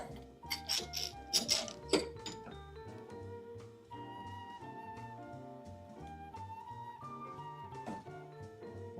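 Hand clamp being wound tight on a pallet wood apple crate, a quick burst of clicking ratchet and knocks, then a steady mechanical whirring with light taps.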